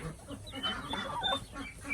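A laying hen clucks softly and repeatedly up close, a low murmuring series of clucks with faint chick peeps mixed in.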